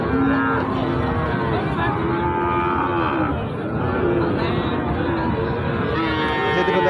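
Several cattle moo repeatedly, long low drawn-out calls overlapping one another against a steady, busy background of farmyard noise.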